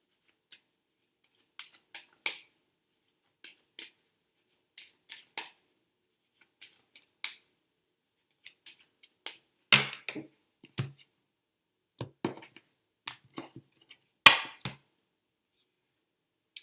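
Tarot cards are handled on a quiet table, with sparse, crisp slaps and flicks as cards are shuffled and set down, a few louder snaps standing out near the end.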